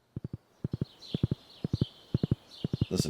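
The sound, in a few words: horse hooves clip-clopping in Stardew Valley video game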